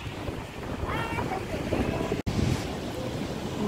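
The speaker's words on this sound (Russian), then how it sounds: "Вот такая сегодня активная река Сочи." The swollen Sochi river rushes loudly after rains, a constant broad roar of flowing water mixed with wind buffeting the microphone, with a brief dropout midway.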